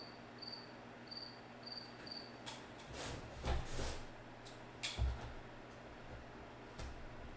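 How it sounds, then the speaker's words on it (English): A cricket chirps in steady, evenly spaced pulses inside a garage, faint and close, with a few soft knocks and shuffling sounds from nearby handling breaking in. "that cricket that I'm hearing totally sounds like it's in the garage with me"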